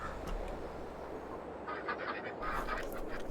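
Farming Sim 22 video game ducks and ducklings, a flock of twenty each, quacking and honking in a steady fowl chatter under a low background hum, with brighter calls clustering in the second half.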